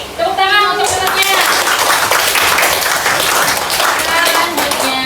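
A group, apparently including children, claps for a participant in a classroom maths lesson, a loud close burst of hand claps that keeps going, with voices speaking and calling out over it at the start and near the end.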